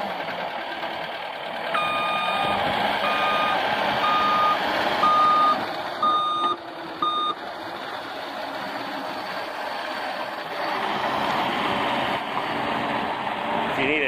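A 2014 Caterpillar 289D high-flow two-speed compact track loader runs with a steady engine drone while its reversing alarm beeps in a regular series, then the beeping stops and the engine carries on.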